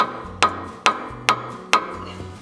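Four sharp, evenly spaced hammer blows on a sway bar link bolt of a Toyota, each ringing metallic strike close and distinct, with a low hum between hits.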